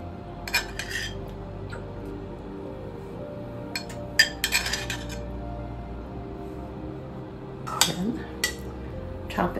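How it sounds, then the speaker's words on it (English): Metal spoon clinks against a pan as slivered almonds are spooned onto rice, a few sharp, close taps scattered over a quiet kitchen background with faint room hum. "And now let's spoon some 1/2 of our almonds onto this."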